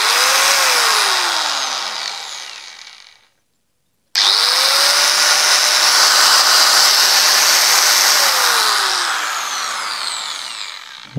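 A Bojet angle grinder switches on with no soft start, snapping straight to a loud, steady whine that winds down to silence, then restarts abruptly at full speed and keeps running alone.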